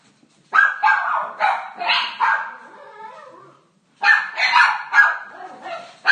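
Dogs bark in quick bursts of several yaps, pause for a moment, then start barking again, loud and close.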